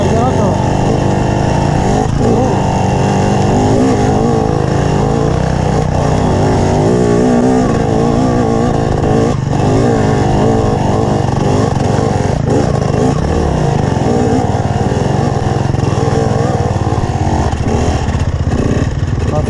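A motorcycle engine drones loudly and continuously on a dusty trail during a festival ride, with steady throttle and occasional revving swells.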